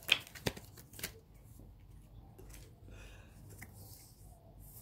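Tarot cards shuffled and drawn, a few soft quick riffling snaps near the start followed by faint papery rustling, quiet and close.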